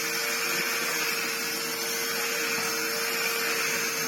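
A Miele S6000 Cat & Dog vacuum cleaner runs with its brush bar switched on, a steady, loud motor whine with a constant hum, close by and without a break.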